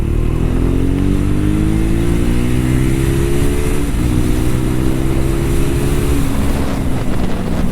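A Triumph Thruxton 400 motorcycle accelerates hard on a road, its engine note climbing steadily through gears, loud and close with constant wind rush over the whole stretch.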